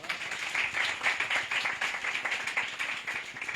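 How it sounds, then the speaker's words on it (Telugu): Church congregation clapping together for the Lord, a dense, sustained round of applause with rhythmic pulses, steady and fairly close throughout. "ప్రభుకు చప్పట్లు కొడతారా?"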